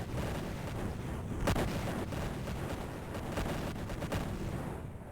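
Weapons fire during a space battle in the strategy game Imperium Galactica as a continuous rumble of faint, distant shots and booms, with a few sharper bursts rising out of the steady roar.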